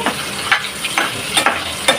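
Eggs fry in hot oil with a steady loud sizzle, broken by several sharp spatula scrapes and stirs at a roughly even pace.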